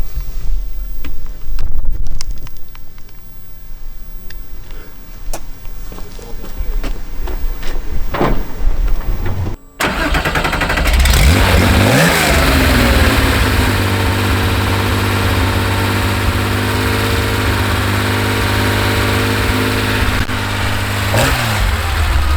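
A 1973 Porsche 911 RSR engine fires up with a loud burst after a quiet stretch, then settles into a rough, loud idle with repeated revs rising and falling, close by.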